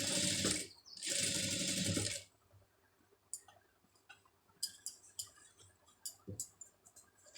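A sewing machine stitching a two-layer lace design onto a sleeve runs in two loud, fast buzzing bursts with a short gap, then stops, leaving faint scattered clicks and handling taps.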